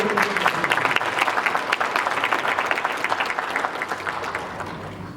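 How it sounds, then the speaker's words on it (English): Steady audience clapping fills a hall during a university vice chancellor's speech, a dense, even wash of many hands lasting throughout without talk. "Can you clap for it?"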